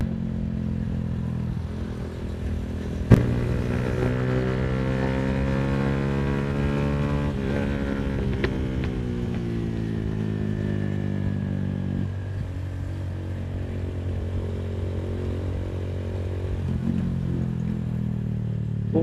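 A Road Prince Wego 150cc motorcycle engine idles steadily after a tune-up, a smooth continuous hum close by with one sharp click early on and a slight rise and fall in pitch.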